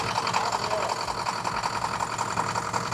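A diesel engine runs after its fuel system has been bled of air, a loud, close, rapid mechanical clatter with a steady knocking rhythm over a low rumble.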